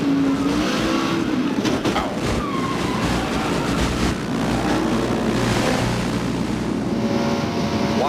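A race car roars past the trackside camera at high speed, a loud sustained engine blare with a rising-then-falling pitch sweep as it goes by, filling the scene with continuous engine noise.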